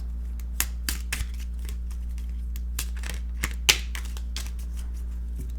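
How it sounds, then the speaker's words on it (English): Tarot cards being shuffled by hand, giving soft, irregular papery riffles and flicks with a few sharper snaps, fairly close against a steady low hum. "I can't shuffle that way."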